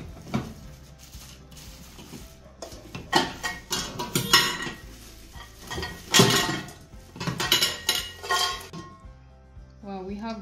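Pieces of a 12-piece stainless steel cookware set clink and clatter as they are unboxed, with irregular metallic knocks, rattles and lid chinks handled close by, ending in a brief softer rustle.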